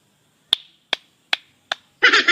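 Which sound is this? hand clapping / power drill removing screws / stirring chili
hand clapping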